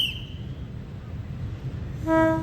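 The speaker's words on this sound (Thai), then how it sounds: "ขบวนที่ 356 356จากชุมทางหนองประดุกครับเป็นทางไปสายใต้เข้าบางซื่อ" Thai SRT train number 356 arrives at Bang Sue with a low rolling rumble, and near the end a loud tonal horn blast sounds. No one speaks.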